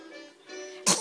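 A single sharp sneeze bursts out near the end of a quiet indoor moment with a child's toys, loud and close after a soft, faintly tonal background.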